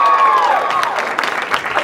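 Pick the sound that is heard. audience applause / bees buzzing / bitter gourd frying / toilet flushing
audience applause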